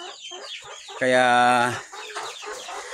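Hens on a farm cluck, with one loud, drawn-out squawking call in the middle among softer clucks, close by, while a person talks briefly.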